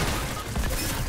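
Rapid bursts of gunfire from a shooting video game crackle densely and continuously, loud and close throughout the short stretch.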